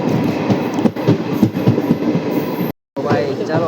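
A passenger train on the Rajkot–Virpur run rumbles steadily with rhythmic wheel clatter, heard loud and close from inside a carriage, broken by a brief cut, with a faint squeal afterward.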